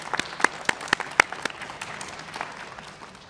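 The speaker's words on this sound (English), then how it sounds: "Please join me in giving them a round of applause" At a college adult-education graduation, the audience gives the faculty and staff a round of applause: sparse, distinct hand claps ringing out in a large hall and tapering into a few scattered claps.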